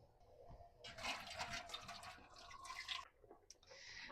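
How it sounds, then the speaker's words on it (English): Hot water pours and splashes into a large metal pressure canner, a steady running fill with some gurgling, cutting off briefly near the end before resuming. "I'm going to get some hot water into the pressure canner"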